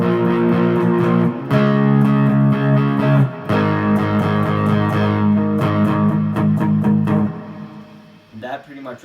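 A distorted electric guitar riff plays loud chords with sustained, buzzing tones and rhythmic strums, ending with a few scraping notes as it fades.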